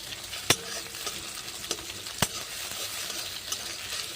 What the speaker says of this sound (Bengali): ডিমটা পেঁয়াজের সাথে ভালো করে লাল করে ভেজে নেব।